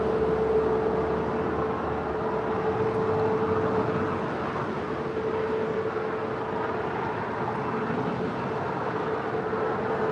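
A Qatar Airways Boeing 777 freighter departs LAX, a steady, loud broadband jet roar with a constant tonal whine held throughout, continuous and unbroken with no voices.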